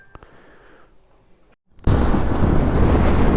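Strong wind gusting on a high mountain road in Mustang, Nepal, starting with quiet rustling and faint knocks, then suddenly roaring loud and steady against the microphone for the rest of the clip.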